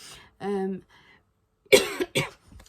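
A short vocal sound, then after a pause two sharp, close coughs in quick succession from someone getting over a cold, loud against an otherwise quiet background.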